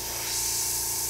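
Airbrush spraying paint over a rivet stencil gives a close, steady airy hiss that holds unbroken through one short stroke.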